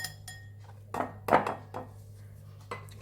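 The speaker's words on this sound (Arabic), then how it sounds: "وهلأ رح قلب كتير منيح لحد ما يتكون عندي عجينة متماسكة مثل عجينة الكوكيز" Flour mixture is stirred into cookie dough in a bowl, giving a few soft, irregular scraping knocks and clinks spaced apart over a quiet background.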